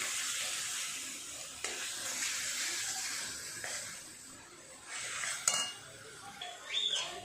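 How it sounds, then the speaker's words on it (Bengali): Potatoes and spices sautéing in a pan give a soft, continuous sizzle, broken by occasional scrapes and clinks of a spoon against the metal as they are stirred. "আলুর সাথে মশলাটা খুব সুন্দরভাবে কষিয়ে নেব"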